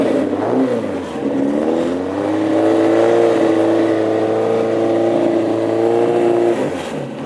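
Classic hot rod race car engine in the pits at Ipswich, idling, then revving to a sustained loud, steady drone for several seconds before easing back down, close by.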